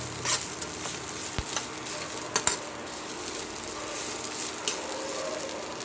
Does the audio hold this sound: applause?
no